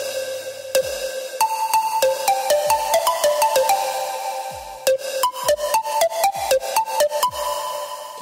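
A big room house synth lead with reverb and no sidechain plays a bright, plucky staccato melody, repeating twice, with each note's reverb tail ringing on beneath the next, loud and alone.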